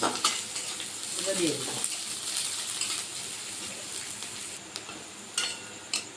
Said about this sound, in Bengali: ঝাল পেঁয়াজ রসুন সব তেলে দিয়েছিলাম